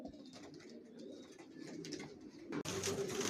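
Rested adult racer pigeons kept in stock coo steadily in a loft, a dense low murmur of overlapping calls, with a louder burst of noise near the end.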